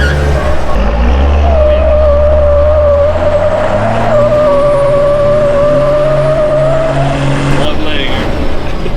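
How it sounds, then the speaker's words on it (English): Ratback car doing a one-legged burnout, engine revving hard with a sustained tire-spinning squeal that is loud and close, ending in a sudden change near the end; people talk over it. "She'll do burnout."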